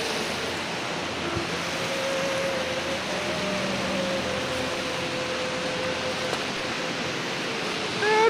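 Stream water rushes steadily in the Ladakh outdoors, a continuous broad hiss of flowing current that stays even and fairly loud throughout with no pauses.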